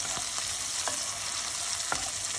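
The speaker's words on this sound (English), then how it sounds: "Saute all of this up." Tomatoes and basil sauté in oil in a pan, giving a steady hissing sizzle with a few faint clinks of a utensil stirring, no voices.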